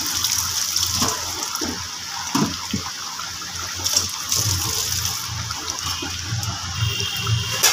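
Koi fish go into a boiling cauliflower curry broth, with a continuous watery bubbling and splashing, punctuated by a few louder splashes and clatters, close and fairly loud.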